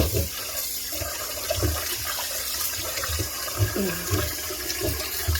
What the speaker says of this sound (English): I'm just going to give this a quick wash with hot soapy water